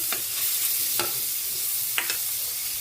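Garlic sizzling in butter in a frying pan with pickles, a steady close hiss broken by a few brief stirring scrapes.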